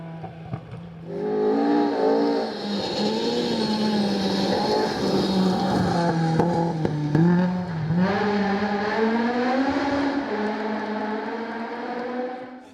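A two-wheel drive rally car races along a forest stage, its engine revving up and down through gear changes, loud and close for several seconds before easing off.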